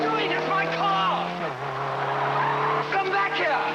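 Tires squeal loudly as a car is driven off at speed, with engine tones rising and shifting over it while people shout.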